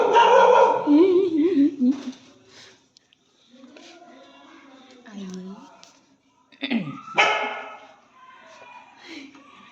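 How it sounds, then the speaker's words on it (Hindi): A dog in a home whimpers and gives excited yips, mixed in with people talking nearby at close range. "ये तुम्हारे यहाँ कुत्ता है?"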